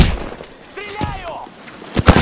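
Rapid gunfire in a battle royale video game, a few sharp shots at the start and a loud cluster at the end, with a tonal in-game effect and a short voice line in between.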